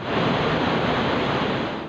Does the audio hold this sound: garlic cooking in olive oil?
no